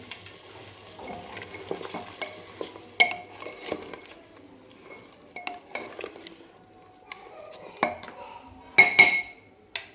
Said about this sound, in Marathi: आणि छान हलवून घ्यायचं आहे आपल्याला